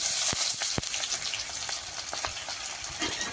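Chopped onion dropped into hot oil with tempered spices, cooking prawns with taro greens: a steady close sizzle with crackling pops throughout, no talk.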